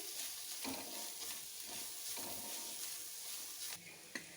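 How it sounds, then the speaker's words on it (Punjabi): Spices with ground green chillies and dried mango powder are roasted in a pan for stuffed capsicum, a continuous sizzle with repeated scraping strokes of stirring and a light tap near the end. "ਸਾਰੇ ਮਸਾਲਿਆਂ ਨੂੰ ਹੁਣ ਭੁੰਨ ਲਾਂਗੇ 1 ਮਿੰਟ ਲਈ"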